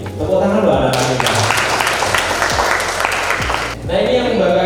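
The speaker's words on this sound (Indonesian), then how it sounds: "Tepuk tangan loh anak-anak ini." Applause for students at a vocational high school assessment event, a burst of clapping rising under ongoing amplified talk, with a voice continuing over it and music-like tones in the background.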